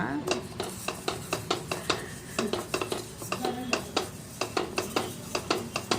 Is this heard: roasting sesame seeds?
yes